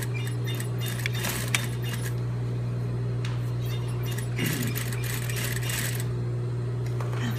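A sewing machine stitches a waistband onto a skirt with a steady motor hum. Rattling bursts of stitching come and go over about seven seconds, near and fairly quiet.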